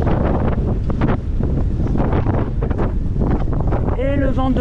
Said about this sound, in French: Et le vent de face qui nous tue.